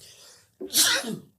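A single close, sharp sneeze bursts out after a brief quiet intake of breath, loud and breathy for about half a second before cutting off.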